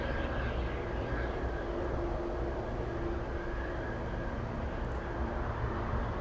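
A Lufthansa airliner at Anchorage airport in gusty wind produces a continuous broadband roar with a faint steady engine whine running through it, constant in level and free of speech.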